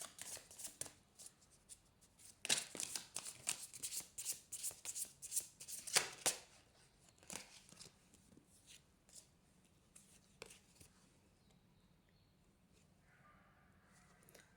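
Tarot cards being shuffled by hand, close and quiet, with a burst of rapid riffling flutters followed by sparser soft slides and taps as cards are drawn, no speech.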